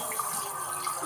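Tap water running steadily into a sink while cleaning a farm duck, a close, continuous splashing hiss with no speech.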